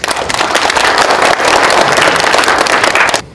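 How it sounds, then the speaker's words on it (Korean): An audience at a forum applauds to welcome a speaker, giving dense, loud, continuous clapping for about three seconds before it stops abruptly. "여러분 박수로 환영해 주십시오."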